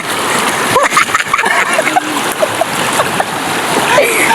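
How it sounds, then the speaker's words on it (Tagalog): Rushing river water splashes and bubbles steadily, with small gurgling pops rising through the continuous wash of sound. "Bubulwak-bulwak ang tubig."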